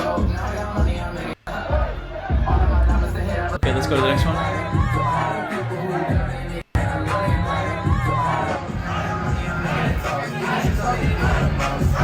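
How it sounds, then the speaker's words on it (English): A hyped crowd at a small concert venue cheers and shouts, mixed with loud music, while a voice speaks briefly over the noise; the sound cuts out abruptly a few times. "Look at the crowd's kind of hype"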